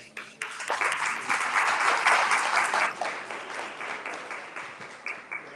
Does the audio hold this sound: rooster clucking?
no